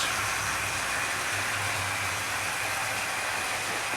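A Patriot class steam locomotive from the 1930s running, a steady loud rushing hiss with a low rumbling drone underneath, constant throughout.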